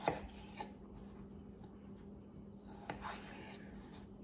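A knife cuts peeled potatoes into chunks on a board, with a few soft, faint chops spaced over the stretch amid low room hum.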